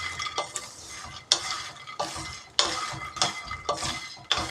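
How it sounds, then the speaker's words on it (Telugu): Phool makhana (fox nuts) frying in oil in a pan until crispy, with repeated bursts of crackling sizzle and scraping as a utensil stirs them, in a steady rhythm of roughly one stir per second. "ఇవి కొంచెం క్రిస్పీగా అయ్యే వరకు వీటిని ఫ్రై చేసుకోవాలి."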